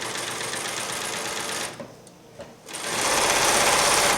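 A sewing machine stitches a stretch skirt hem at 3.0 stitch length, running as a loud, steady close-up whir that dips briefly midway, then resumes more strongly.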